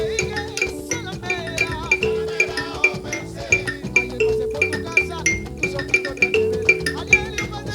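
An Afro-Peruvian percussion instrument of African origin plays a lively, steadily repeating pattern of bright pitched strikes with clinking overtones, close and prominent with no voices.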